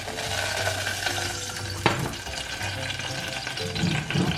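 Plantain for Ghanaian eto frying in hot oil, a steady sizzle with occasional soft stirring and one sharp clink of a utensil partway through.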